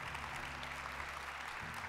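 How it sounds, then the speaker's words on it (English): Sustained crowd applause at a live gala event, steady broadband clapping from a large audience throughout, fairly quiet and distant with no talk over it. "Let's give them a huge, huge, huge round of applause."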